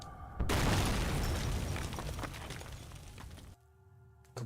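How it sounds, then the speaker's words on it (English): A chemical bottle explodes in the video game Penumbra: Overture. A sudden loud boom with shattering debris rumbles for about three seconds, then cuts to quiet. "Kaboom!"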